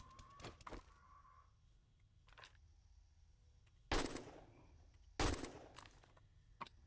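AK rifle fire in the video game 7 Days to Die comes as two sharp, loud bursts a little over a second apart, after some quieter clicks and clatter.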